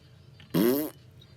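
A single short, low, buzzing whale fart lasts about half a second. It is loud and isolated against near silence.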